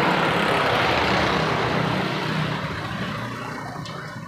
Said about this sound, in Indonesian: kita matikan mesinnya